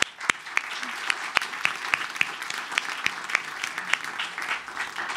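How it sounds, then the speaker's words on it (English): Audience applauding sponsors at the Ippies Awards 2015 ceremony, a steady spread of claps with sharp individual hand strikes standing out, moderately loud and continuous throughout. "let's give our sponsors a round of applause."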